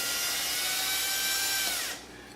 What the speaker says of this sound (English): very carefully run through each one of the holes with a 1/8 inch drill bit